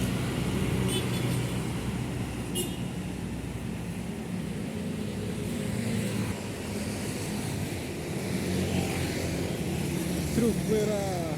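A red truck passes along a road, a steady broad engine and tyre rumble running throughout the stretch at a fairly constant level, with traffic noise around it and no talk.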